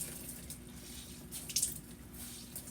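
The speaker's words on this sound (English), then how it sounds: "All this water out of this zucchini, that'll make so that quiche doesn't get watery." Water pressed out of salted zucchini trickles and splashes steadily into a kitchen sink, a soft continuous running-water sound with a brief louder splash partway through.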